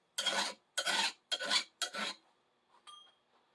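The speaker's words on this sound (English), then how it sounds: "put a little chamfer on it, pull it down the file" Four long rasping strokes of a hand file putting a chamfer on a metal lamp rod, each pass pulled down the file with a short pause between, followed by a few faint clicks.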